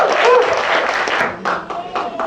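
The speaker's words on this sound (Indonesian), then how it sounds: "Tepuk tangan Hendra teman-teman." Brief burst of audience applause at a church service welcoming a man to the front, dense clapping that thins out toward the end with some voices mixed in.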